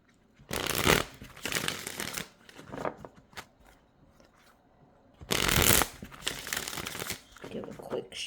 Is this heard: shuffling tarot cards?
yes